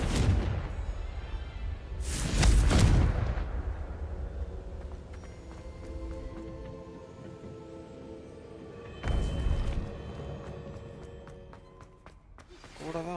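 A Confringo blasting spell goes off in Hogwarts Legacy with loud, deep booming bursts, the strongest early on and another around nine seconds, each trailing into a rumbling tail over a steady game backdrop.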